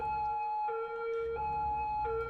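A police siren in the Cities: Skylines city-building game wails in a steady two-tone alternation, repeating several times at a moderate, even level with no talk.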